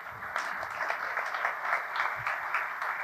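An audience in a conference room at a cybersecurity meetup applauds after a presentation, a steady, dense patter of many hands clapping for about three seconds at moderate distance.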